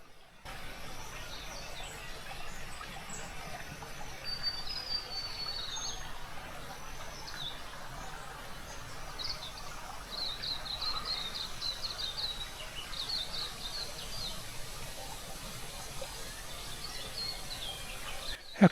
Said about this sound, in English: You can hear the water cascading and you can just hear the birds